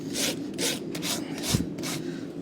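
A farrier works a rasp across an uneven horse hoof while fitting a shoe, making about five steady, rhythmic scraping strokes, close and fairly loud.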